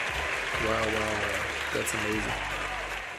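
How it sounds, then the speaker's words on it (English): A short burst of applause sound effect, a dense clapping wash that swells and fades over a few seconds while people talk over it. "He needs a round of applause."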